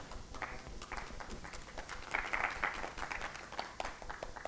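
Audience applause at a university lecture, a steady patter of many hands clapping at moderate distance that builds briefly midway and then stays level.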